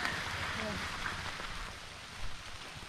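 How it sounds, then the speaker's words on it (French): Soft, steady patter of rain falling on surfaces nearby, with faint voices in the background. "Même sous la pluie"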